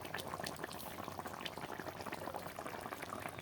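Pabda fish curry bubbling in a pan just after tomato goes in, a steady close-up simmer of dense, crackling liquid that keeps going without any talk.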